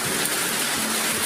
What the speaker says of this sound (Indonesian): Hujan ya teman-teman.